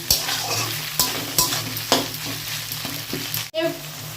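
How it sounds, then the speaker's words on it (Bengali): Tomatoes fry with a pinch of salt in a pan for a potato curry, sizzling steadily while a spatula scrapes and knocks against the pan in several distinct strokes, close up with no talk. "এবার দিয়ে দেবো সামান্য নুন, যাতে টমেটোগুলোকে ভালো করে ভেজে নিতে পারি"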